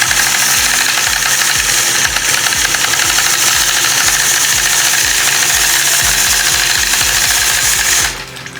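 Domestic sewing machine running a steady straight stitch through quilt fabric along a basting line, a loud, close, continuous rapid mechanical chatter with fast regular needle pulses that stops abruptly near the end.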